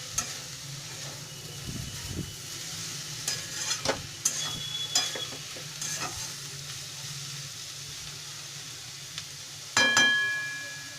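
Fenugreek and potato curry frying in a pan while being stirred: scraping spoon strokes and clatter over a steady sizzle, with a louder scrape near the end.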